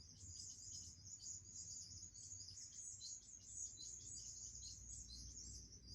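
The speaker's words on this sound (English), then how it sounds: "They're all the little fairy wren birds." Fairy wren birds chirping outside a window, a rapid high-pitched continuous twittering chorus heard at a distance, faint over low steady background hum, with no talking.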